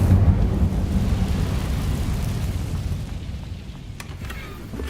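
Fire spell effect in Hogwarts Legacy: a deep, rumbling whoosh of flames that swells at once and roars steadily, then thins out with faint crackles near the end, loud and close.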